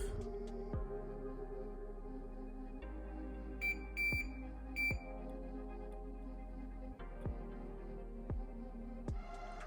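A multimeter on continuity test beeps while probing an NES game cartridge with a blue-screen fault. A few short, clear high beeps come midway over a low, steady hum and occasional probe clicks.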